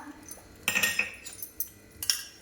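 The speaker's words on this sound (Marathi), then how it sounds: "या बॅटरमध्ये घालणार आहोत आणि छानपैकी अगदी मिक्स करून घ्यायचे आहे" Jowar (sorghum flour) dosa batter stirred in a bowl, giving a few quiet spoon-against-bowl clinks and scrapes in short bursts, fairly close and soft, with no talking.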